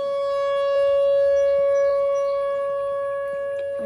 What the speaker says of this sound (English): They run these sirens a lot longer